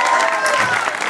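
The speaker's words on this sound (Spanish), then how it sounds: "Un fuerte aplauso" A short, loud burst of audience applause at a prize-giving for competition winners, dense and continuous with possible faint voices mixed in.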